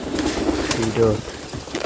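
Pigeons kept in a loft coo in a soft low burble that swells briefly near the middle, heard close by over background noise.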